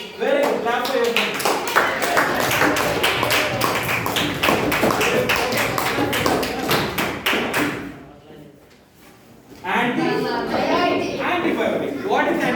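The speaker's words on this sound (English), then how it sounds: "Clap for yourself" Children in a classroom clap for themselves in quick, rhythmic bursts, loud and close, with chatter mixed in; the clapping stops briefly near the end, then voices pick up again.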